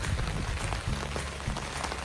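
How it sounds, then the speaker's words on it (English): Steady rain falls on a campground on a windy day, making a dense, even patter of drops on surfaces with a soft hiss and no speech. "it's raining."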